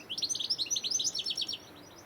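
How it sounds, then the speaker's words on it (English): Outdoors by Whissendine Village Hall in Rutland, a goldfinch sings a quick, bright run of twittering chirps for about a second and a half before falling quiet. "Lovely goldfinch in the background singing"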